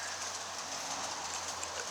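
Two G scale model trains run together on a garden railroad track, making a steady, even rumble with a light metallic rolling hiss and no voices.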